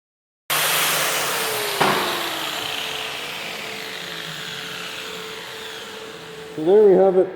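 Angle grinder with a flap disc cleaning up welds on a 30 lb steel anvil being made from scratch, a loud steady whine with gritty grinding, bogging and surging at the end.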